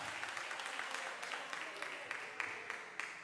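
A crowd at a church house competition event applauds steadily, a dense wash of clapping that carries on without a break.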